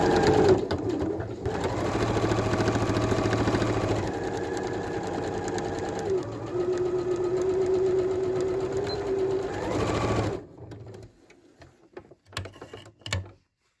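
Sewing machine stitching layers of a fabric face mask, a steady rapid mechanical whir and needle clatter that runs continuously for about ten seconds, then stops, leaving a few light clicks and handling noises.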